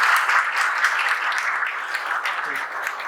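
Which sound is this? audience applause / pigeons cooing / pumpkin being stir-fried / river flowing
audience applause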